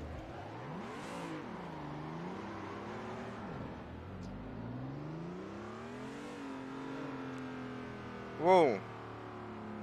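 Car engine in a racing video game drifting with a gear drop, revving up and down in repeated swooping surges, loud and close. A short voice exclamation cuts in near the end.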